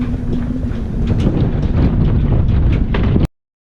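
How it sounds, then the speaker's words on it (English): Strong gusty wind on a sailboat in a marina in Martinique buffeting the microphone with a low roar and occasional flaps, continuous until it cuts off abruptly near the end. "Windy."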